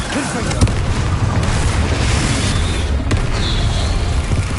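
Confringo fire spell explosions in the Hogwarts Legacy video game form a dense, continuous wall of booming blasts and crackling bursts, loud and close throughout with a few sharper pops.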